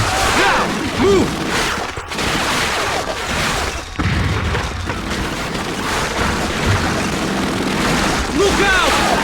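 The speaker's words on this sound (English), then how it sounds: "Look out! Machine guns firing!" Machine guns rattle in a Call of Duty: Finest Hour battle, loud bursts of fire mixed with booms and crashes over a churning wartime din, with shouted voices in places.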